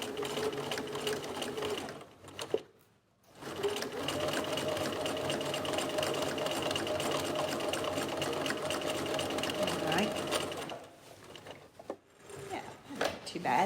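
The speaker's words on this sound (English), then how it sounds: "I'm just watching the edge of the presser foot and the edge of the folded edge of the fabric as I go down through here" A sewing machine stitches a flat fell seam in fabric with a rapid, steady mechanical chatter. It pauses briefly twice, near the start and again near the end, and quieter stitching bursts follow.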